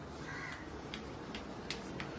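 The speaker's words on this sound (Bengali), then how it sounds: "ওই দেখো ডাকছে কাক" A crow caws several times, sharp calls spaced out at a middle distance over a steady background hum, with no talk.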